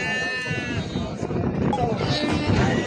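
Sheep and goats bleat at the Maştağa livestock bazaar, with a clear, nearby wavering bleat at the start, then a dense hubbub of crowd chatter and more animal calls.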